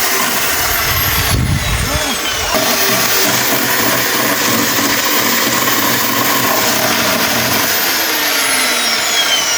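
The engine of an e-taek farm tractor runs loud and close, a steady rumbling drone that holds for the whole stretch, with a short rougher surge near the start.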